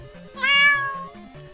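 One clear, close cat meow, drawn out for about half a second, over a steady musical hum from a video game playing in the background.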